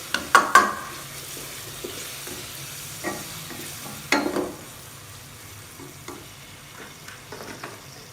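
Chopped tomato and ginger drop into a pan of frying masala with ground chilli and turmeric, giving a few sharp clattering bursts at the start and near the middle, then a soft, steady sizzle with light stirring scrapes.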